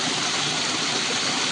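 Clean forest stream water runs over stones in rural Konkan, a steady, loud, close rushing wash with no break and no voices.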